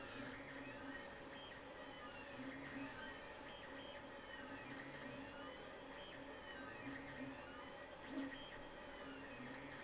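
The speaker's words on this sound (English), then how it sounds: "show you what's going on the printer" A printer produces a picture with a continuous whirring, mechanical hum and repeating sweeping carriage passes, steady and moderately close, with no talking.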